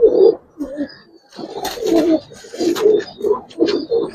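Giribaz and coloured pigeons cooing close by, a series of soft, throaty, repeated coos in uneven bursts with short pauses between.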